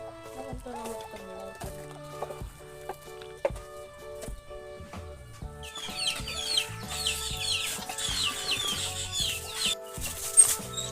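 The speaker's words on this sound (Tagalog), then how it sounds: "Dito tayo sa kulungan ng manok dahil kukuha tayo ng itlog." Chickens cluck and murmur inside a chicken coop, scattered calls near and far, with faint flapping and rustling building toward the end.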